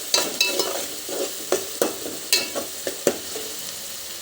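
Ginger paste fries in a pan for a mutton curry with steady background sizzling, while a spoon stirs it in a series of sharp scraping knocks at an irregular rhythm, close by and moderately loud.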